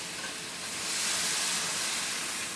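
Spice-paste water poured into a hot pan for an aar fish jhal gives a steady, dense hiss that swells slightly midway and runs unbroken for a couple of seconds, close and loud, with no one speaking.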